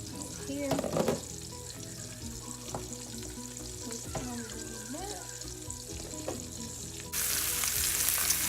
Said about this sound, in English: sizzle sound is what you're looking for too